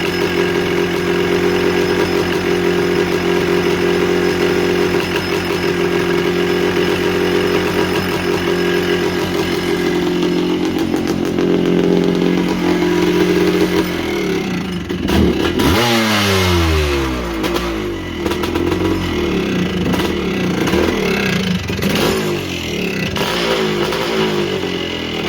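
A 1978 Yamaha YZ400 two-stroke motorcycle idling steadily, then revving and pulling away as it is ridden, the engine note rising and falling with throttle, loud and near throughout.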